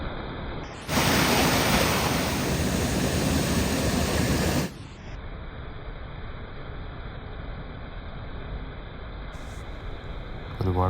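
Hot geothermal water rushes along Kerosene Creek near Rotorua, a loud broad wash that surges for a few seconds and then settles to a steadier, softer flow heard close by.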